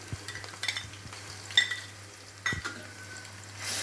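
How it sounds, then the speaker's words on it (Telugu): Ginger garlic paste frying in hot oil for a curry with curry leaves, a faint steady sizzle broken by a few light spoon-against-pan scrapes and clinks, no talk. "ఇది కూడా బాగా ఆయిల్ వచ్చే వరకు దీన్ని కూడా ఫ్రై చేయాలి"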